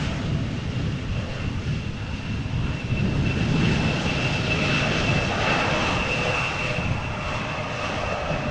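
An arriving airliner at Amsterdam Schiphol Airport gives off a sustained jet engine roar with a thin high whine. It swells slightly toward the middle and then holds steady, heard alone without talk.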